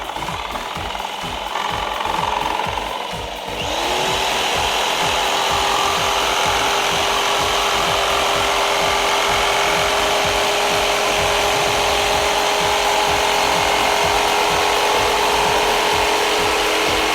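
A Bosch PST 1000 PEL jigsaw starts up and cuts through wood with a steady buzzing rasp, close and loud, running continuously without pause.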